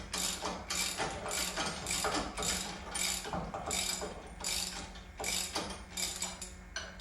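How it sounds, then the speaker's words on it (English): Ratchet wrench fitted with a 3/4 inch socket loosening a bolt on a bracket: close, quick rhythmic clicking strokes repeated in a steady back-and-forth pattern. "a 3/4 inch socket will fit right on the end of that bolt. And you can just loosen that"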